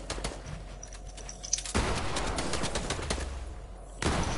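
Rapid gunfire aimed at the player in a video game, a dense stream of close shots with a sharp burst and shift partway through, continuing steadily and loud, with no talking during it.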